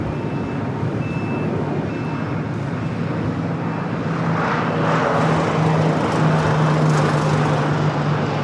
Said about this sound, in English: that was flight 9624, 8-year-old 787-8 Dreamliner